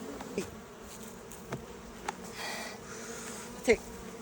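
Honey bees drone faintly over an open hive colony, with a steady low buzz and a few brief louder passes as single bees fly close.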